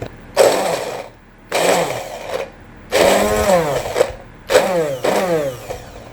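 An overfilled small electric food chopper whirs in several short bursts, each pulse starting and stopping abruptly with brief pauses between.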